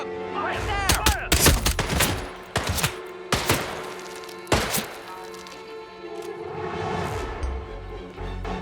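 Enemy guards fire on the player in the video game Hitman 3, with several sharp gunshot bursts and single cracks at uneven intervals among clanks and impacts, while voices shout over the action.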